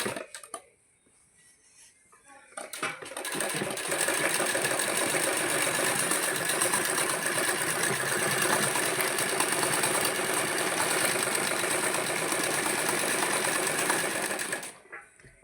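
Sewing machine running steadily while stitching cord piping onto a dupatta, a loud continuous whirring drone that starts after a quiet moment and carries on alone for about twelve seconds before stopping.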